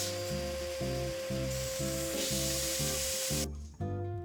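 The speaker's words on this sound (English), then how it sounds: "And back to the belt sander to tidy them up" A belt sander smooths small hand-cut wooden triangles meant as tree shapes, giving a steady, close broadband hiss over a rhythmic, tonal background that cuts off abruptly near the end.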